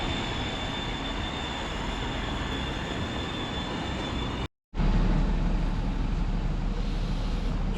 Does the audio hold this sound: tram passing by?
yes